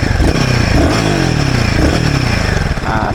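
A Royal Enfield Guerrilla 450 (2024) motorcycle exhaust revs loudly and close by, a steady throaty engine roar with rising and falling pitch held through the whole stretch, with a brief dip near the end.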